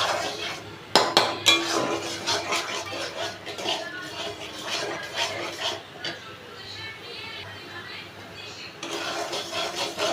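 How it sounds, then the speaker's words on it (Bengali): Vegetables with spices are stirred in a pot, giving a run of metallic clinks and scraping knocks of a utensil against the pot, busiest early and then settling into quieter rubbing, with a voice talking alongside. "সব মশলা দিয়ে ভালো করে নেড়ে চেড়ে স্বাদ মতন নুন।"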